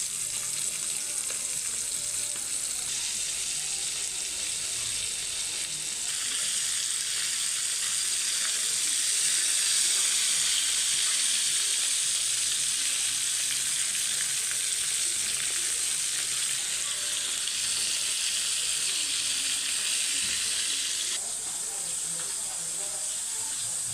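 Tilapia dredged in flour sizzles steadily in hot oil, a loud, continuous crackling hiss that swells a little midway and carries on without a break.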